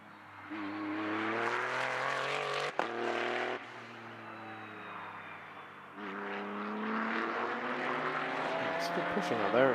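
Maserati GT race car on the Paul Ricard circuit in an Ultimate GT Sprint Cup race, engine droning with steady harmonic pitch, dropping on a gearshift and rising again under acceleration, heard beneath commentary.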